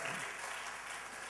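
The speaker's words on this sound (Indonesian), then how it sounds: "Tepuk tangan buat Allah kita." Church congregation applauding during a sermon, a steady wash of many hands clapping that fills the short moment without any voice over it.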